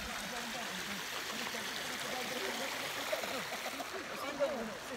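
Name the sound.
water flowing over spillway at Hindang Falls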